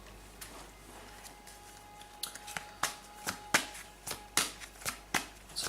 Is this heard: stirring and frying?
no